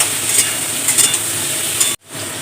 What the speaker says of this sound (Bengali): আর যে ডাঁটাগুলোও দিয়ে দেবো। একটু লবণ দিই আর একটু হলুদ দিয়ে একটু সবজিটা ভেজে নেব।